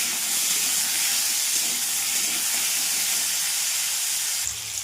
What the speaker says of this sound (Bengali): এবার ভালো করে লাল লাল করে ভেজে নেবো আলুটা।